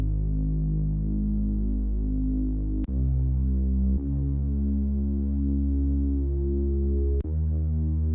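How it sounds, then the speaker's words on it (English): Sustained synth bass drone from the E8 Drone preset in Hive, layered under a bass patch, throbbing low and steady with a few abrupt note changes and sharp clicks at the transitions, loud and alone. "for the bass is from Hive. It is the E8 drone and Temple Mountain under the bass preset."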